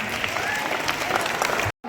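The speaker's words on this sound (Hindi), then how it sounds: "जोरदार तालियां।" Loud, dense clapping from an audience at a Janmashtami celebration carries on steadily before cutting off abruptly just before the end.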